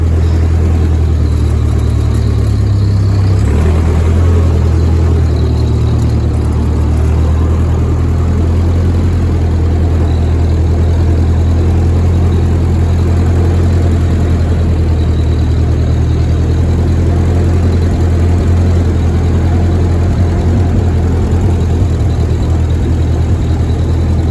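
A Ford 2N tractor engine idling loudly and steadily at close range, a low continuous rumble with a slight shift in pitch early on.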